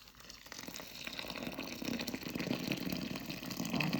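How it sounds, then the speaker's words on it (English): Boiling water pours steadily over dried mulukhya leaves in a bowl, a continuous close gushing and splashing that swells slightly as the stream keeps filling, with no talk. "Now I'll add boiling water and let it soak for 2 hours before we start cooking it."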